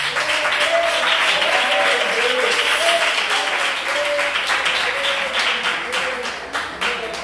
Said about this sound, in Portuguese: se desejar aplaudir Jesus, fica à vontade